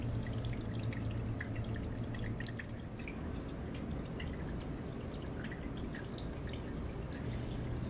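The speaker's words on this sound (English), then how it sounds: "eventually I was able to get all the water to pour down the front of the mountains" Water trickles and drips steadily down the front of moss-covered mountains in a paludarium build. The sound is a soft, continuous splashing with scattered close droplets, with no voices.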